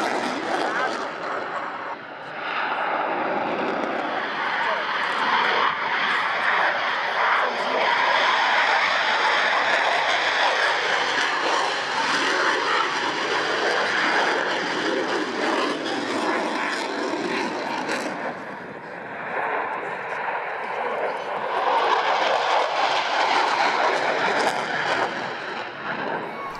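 A Dassault Rafale fighter jet in a flying display at the Royal International Air Tattoo 2016, a loud continuous jet roar that swells and fades as it passes, with a voice speaking over it.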